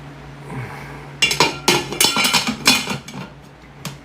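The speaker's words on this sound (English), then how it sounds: "Cover the pot." A vintage aluminum cooking pot gets its lid, a quick series of loud metallic clanks and clinks close by. The rattling knocks cluster in the middle of the clip, then a final clink rings out after a pause.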